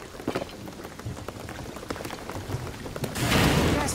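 Rain in the video game Shadow of the Tomb Raider, a steady patter of drops with scattered splashes that swells into a heavier downpour near the end.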